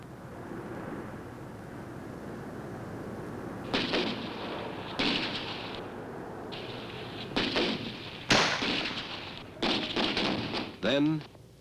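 Rifle fire at pop-up range targets out in the open, several loud sharp reports spread across the clip over steady wind and background noise.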